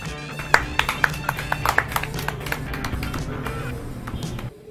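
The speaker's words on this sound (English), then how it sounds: "Clapping for all children." Sharp individual hand claps ring out for children in a kids' learning setting, a few spaced loud claps giving way to quicker, lighter clapping over a steady background tone before stopping abruptly.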